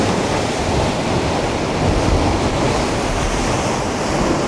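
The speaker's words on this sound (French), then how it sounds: "il y a des belles vagues là, belles houles" Ocean waves and swell breaking at the shore during surf fishing, a loud, steady wash of surf with wind noise on the microphone and no voices.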